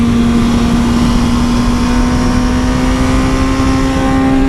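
A motorcycle engine pulls steadily in second gear on a canyon road, a loud, continuous close drone with a strong steady tone and no talk.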